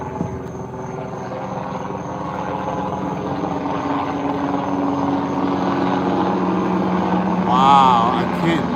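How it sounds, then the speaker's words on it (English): A large Black Hawk military helicopter passes overhead, its rotor and engine making a steady, loud droning rumble that swells slightly toward the end before easing off. "That was a big helicopter. It seems like it was a Black Hawk."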